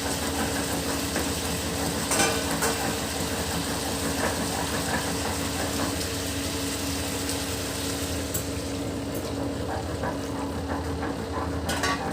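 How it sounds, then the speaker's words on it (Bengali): Potatoes and ridge gourd fry in ghee with bay leaf and black cumin, giving a steady, dense sizzle with a constant hum underneath and a few brief clatters. No one speaks. "আলুটা ভাজা হয়ে গেছে, ঝিঙেগুলি দিয়ে দিচ্ছি।"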